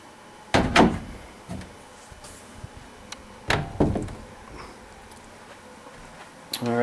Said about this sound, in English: we put a 4-foot double door there with the ball catches